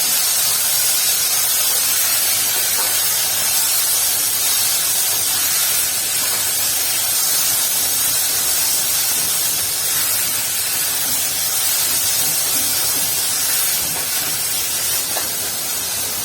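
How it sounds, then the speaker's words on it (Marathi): Tomatoes fry in a pan for matar paneer, making a loud, continuous close-up sizzle and hiss that holds steady throughout with no speech. "टोमॅटो 2-3 मिनिटं भाजून घेऊया।"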